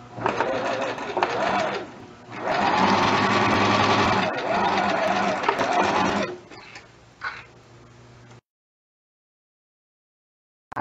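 A sewing machine stitches a straight skirt in close, loud bursts, starting and stopping a few times as the fabric is fed through, then falls silent.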